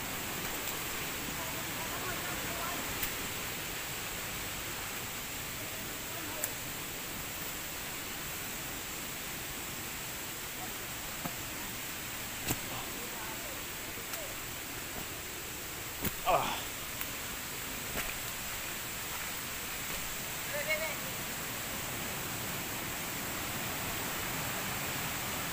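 Pinaghiusa Falls in Baganga, Davao Oriental, gives a steady, even rush of falling water throughout, with a few faint knocks and brief rustles on top.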